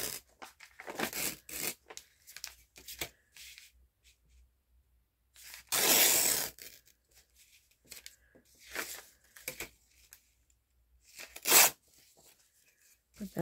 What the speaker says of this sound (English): I'm just going to take stuff like this and I'm just going to